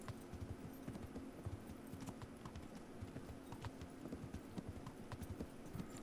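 A horse's hooves clip-clop on the ground in the medieval game Kingdom Come: Deliverance, a quick, regular gallop of dull thuds held at a fairly quiet level throughout.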